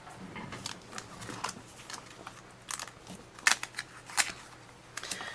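A Big Shot die cut machine crunches card through its rollers, making a steady series of close, crackling, snapping presses with a few sharper cracks midway.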